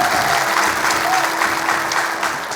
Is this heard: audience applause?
yes